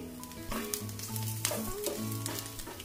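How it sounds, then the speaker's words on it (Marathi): Onion fries in a pan over a medium gas flame with a soft, continuous sizzle. Steady tonal sounds, like background music, run underneath, and no one talks. "मीडियम गॅसवरती आपण आता कांदा भाजून घेणार आहे."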